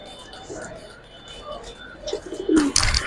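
Pigeons at a sale of Giribaz flying and coloured pigeons, soft cooing and bird calls at moderate distance, growing busier toward the end, with people talking nearby.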